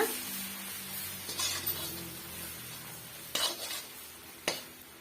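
Curry leaves fry in a pan for a spiced puffed-rice snack, a quiet steady sizzle broken by a few sharp scrapes and clinks of a spoon stirring against the metal.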